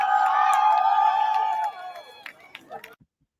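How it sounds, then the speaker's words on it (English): Crowd at a UFO gathering in a park, a busy blend of many voices and shouts heard outdoors at moderate distance, thinning out after a couple of seconds before the sound cuts off. "You can hear that crowd, yeah?"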